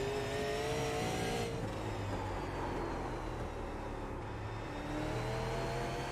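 A super late model race car engine in iRacing drones loudly and steadily at Concord Speedway, its pitch rising and falling slightly as the car laps.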